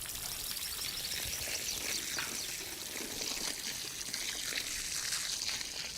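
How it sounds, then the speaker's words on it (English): Water is poured into a planting hole in garden soil. The splashing, trickling pour is steady and continuous, moderately close and fairly quiet, with no voices over it. "water the soil and the hole before you put the plant in and let it drain"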